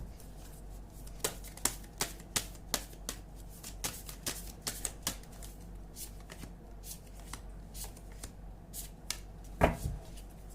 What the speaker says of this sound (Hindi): शफल करके रख लेती हूँ